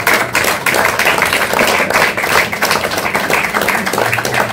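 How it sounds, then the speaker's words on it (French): Audience applauding at an awards ceremony at the SACD in Paris, a loud, steady burst of many hands clapping close by, continuous throughout. "Il s'appelle Lucas Perrin, je vous demande de l'applaudir."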